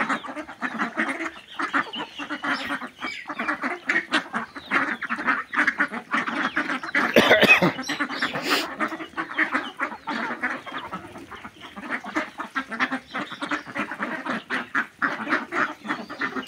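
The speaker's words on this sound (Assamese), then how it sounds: "বহুত কেইটা মতা হাঁহ আছে মাইকী হাঁহতকৈ মতা হাঁহ খাওঁতে বহুত টেষ্ট হয়" A home-kept flock of ducks, drakes among them, quacks continuously and close by, with many overlapping calls forming a dense, busy chorus that briefly swells louder midway.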